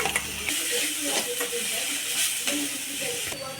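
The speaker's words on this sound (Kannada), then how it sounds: "ಅದನ್ನು ಹಾಕಿ ಸ್ವಲ್ಪ ಫ್ರೈ ಮಾಡೋಣ" A paste of coconut, green chili, cumin and garlic fries briefly in a pan, producing a continuous close hiss and sizzle with a few stirring scrapes, while a voice is faintly present underneath.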